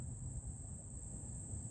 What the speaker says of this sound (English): The bees done made a nest right there.